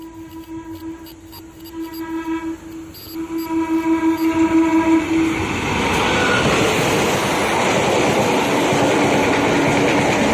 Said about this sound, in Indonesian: KA pertama yang melintas adalah kereta api Rapindo dari stasiun Blitar dengan tujuan akhir stasiun Surabaya Kota.